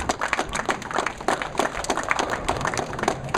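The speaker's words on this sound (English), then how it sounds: "Big round of applause for him." Crowd at a bowling tournament bursts into sharp, dense clapping after a record-breaking title, close and lively with no speech.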